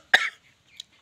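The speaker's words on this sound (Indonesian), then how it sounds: "batuk" A single sharp cough, followed a moment later by a faint short throat sound, otherwise quiet.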